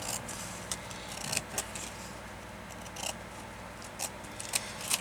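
Scissors snip through music paper in a series of short, crisp cuts, irregularly spaced and close but quiet, over a low steady background hum.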